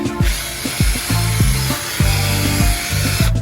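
Loud, steady whir of a drill-powered brush scrubbing dirt from a BMW 750Li's car carpet, its motor pitch dipping and surging repeatedly under load.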